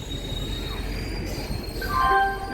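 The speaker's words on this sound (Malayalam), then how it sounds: "okay Thrissur railway station" A busy railway platform hum at Thrissur railway station with low rumble, a train's metallic squeal rising near the end, and distant station noise.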